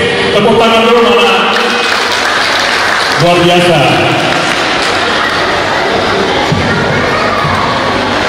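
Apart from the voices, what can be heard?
audience applause and cheering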